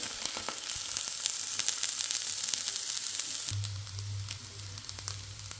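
Vengaya poo being sautéed in a pan for Jaffna-style cooking gives a steady close sizzle throughout, with a deeper bubbling hiss joining halfway through.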